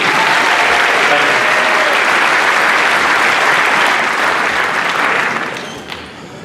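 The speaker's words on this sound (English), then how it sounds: "One more round of applause for Mr. Tony Martinez." A large audience at the 2017 Aurora inauguration gives a round of applause for Tony Martinez, loud and dense sustained clapping with crowd noise that tapers off near the end.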